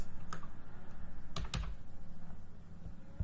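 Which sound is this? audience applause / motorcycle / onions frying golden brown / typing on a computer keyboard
typing on a computer keyboard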